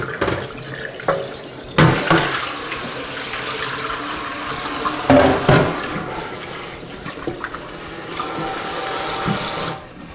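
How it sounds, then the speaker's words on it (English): Tap water runs steadily over a whole duck as it is rinsed inside and out in a sink, with splashing shifts as the bird is handled, ending abruptly. "rinse the duck inside and out thoroughly"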